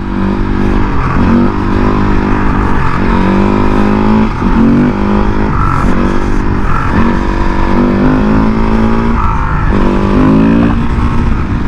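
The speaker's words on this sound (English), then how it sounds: "Third gears are where it's at on this bike." A supermoto motorcycle ridden hard, its engine revving and climbing through repeated rising pulls with brief dips between them, loud and close throughout with no talking.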